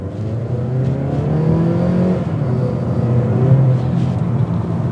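A 2022 Mazda 3 hatchback pulls away from a stop, its engine note rising steadily in pitch under load, heard from inside the cabin with a constant road and wind hum.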